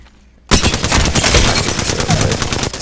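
An Alternator SMG fires in Apex Legends, starting abruptly after a brief quiet lead-in. It unleashes one long, rapid, evenly paced burst of loud, close shots that runs to the end.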